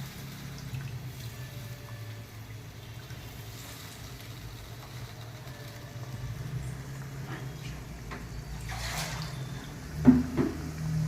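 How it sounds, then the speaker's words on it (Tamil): Coconut water is poured into a simmering village-style Thanjavur fish curry, heard as a steady, soft liquid trickle over low background hum, with a couple of louder splashes near the end. "தேங்காய் தண்ணி ஊற்றிக்கிறேன்."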